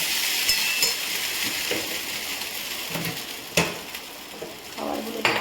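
Leftover food being reheated in a pan, with a utensil stirring and scraping through it amid a steady low sizzle, occasional clinks against the pan rising now and then.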